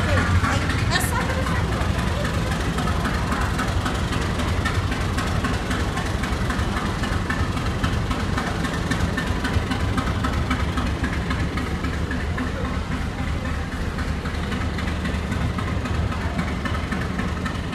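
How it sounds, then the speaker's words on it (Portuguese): The Trem Republicano tourist train locomotive at Salto station, Brazil, gives a continuous loud, low engine rumble close by for the whole stretch, with people talking over it. "Aquela locomotiva dá o giro, né? Inverte ela para ela dar o retorno para Itu."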